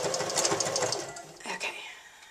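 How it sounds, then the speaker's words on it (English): A home sewing machine backstitches over a seam while sewing bias tape with mitered corners, running in a fast steady burst for over a second, then slowing and stopping in a few short bursts. "Sometimes I backstitch over seams."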